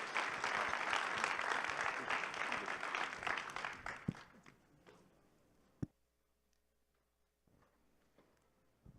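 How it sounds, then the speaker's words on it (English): Applause from an audience at a blockchain developer conference, full and steady at first, then dwindling to a few last claps and a sharp knock before near silence. "One more round of applause for these great guys."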